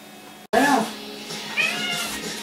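A house cat meows twice in quick succession, close and fairly loud, with a short rising cry followed by a higher second meow.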